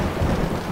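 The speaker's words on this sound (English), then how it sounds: "And more rain." A brief, dense wash of rain with a low thunder rumble beneath it, fairly loud and steady, with no voices.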